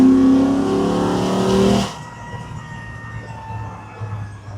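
A 1979 Ford Bronco restomod with a 5.0 Coyote V8 revs loudly and up close, its engine tone climbing and holding before dropping off sharply to a low idle rumble.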